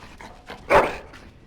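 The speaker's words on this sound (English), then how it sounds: "Bloody dog." A single sharp bark from a dog in Dragon Age: Origins rings out close and loud, with softer whimpering huffs just before it.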